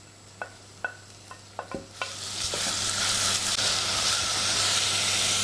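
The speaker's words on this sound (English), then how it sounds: "I get my hob on, onions in, and I'll put the chilli in at this stage too." Onions and chillies hit a hot pan on the hob with a few sharp clicks and taps, then a loud, steady sizzle with steam hiss that fills the rest of the stretch without any voices.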